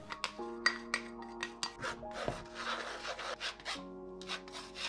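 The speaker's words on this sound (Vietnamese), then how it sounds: "520g bột mì mình sẽ dây hết vào cái âu này, dây cho nó mịn để lát nữa trộn bột nó sẽ được đều hơn." Flour and corn starch are sifted through a sieve into a bowl, giving soft, rhythmic scratchy rubbing strokes at close range, repeated roughly every half second, with a faint steady background hum.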